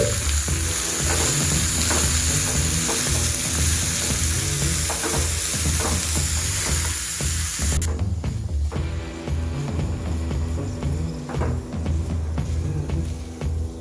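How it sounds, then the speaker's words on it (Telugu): Finely chopped onions frying in a pan for hotel-style aloo curry, a loud, constant close-up sizzle with stirring scrapes running the whole time, no voices. "అందులో మనం 2 ఉల్లిపాయలు సన్నగా తరుక్కునేవి వీటిని కూడా వేసి దూరగా వేపుకోవాలి"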